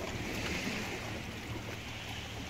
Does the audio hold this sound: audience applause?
no